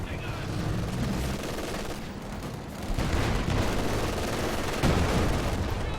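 Continuous mortar and machine gun fire from the Company of Heroes 2 strategy game rattles densely with thumping blasts, loud and sustained throughout, with speech faintly mixed in.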